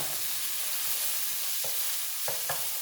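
Garlic and red pepper flakes sizzle in a pan with a steady, even hiss, broken near the end by a few soft scrapes and clicks from stirring. No one speaks.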